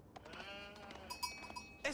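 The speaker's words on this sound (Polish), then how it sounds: "O, super, mamy jakieś tu owce." Sheep bleat in the medieval strategy game Age of Empires IV, with a few short, faint calls near each other over quiet game ambience.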